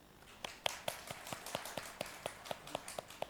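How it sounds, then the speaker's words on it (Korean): A small church congregation claps during a Sunday service, giving a sparse, fairly quiet series of roughly regular claps that picks up into a steadier rhythm, with no talking over it. "박수 한번 쳐드릴까요?"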